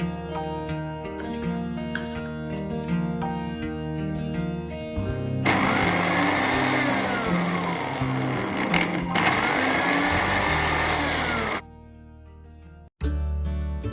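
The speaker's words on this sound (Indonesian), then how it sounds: "Kemudian kita haluskan bawang merah, bawang putih, kemiri, jahe, kunyit, merica, ketumbar, dan cabai keriting" A countertop blender grinds shallots, garlic, candlenut, ginger, turmeric, pepper, coriander and curly chili into a spice paste; a loud, steady whir runs for several seconds, then cuts out abruptly with a brief pause.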